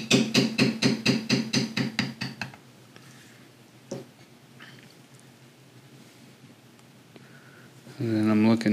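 About a dozen quick, sharp taps from a mallet striking a metal beveler on carved leather come in a steady rhythm at the start, followed by a quiet stretch with a faint knock and then someone speaking.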